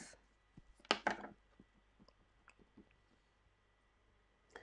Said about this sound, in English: cut off the excess with a knife